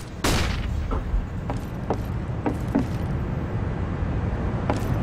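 A flashbang grenade goes off in CS:GO with a sharp close bang, followed by several fainter pops and clicks over a constant low rumble of game noise.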